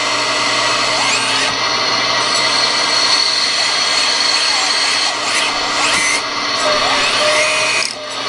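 The hydraulic pump of a small excavator runs on demand, a loud, steady high-pitched whine with shifting tones as the load changes, close and continuous throughout.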